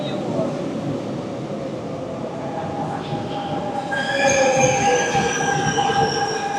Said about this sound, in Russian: Слушай, это двухэтажный поезд.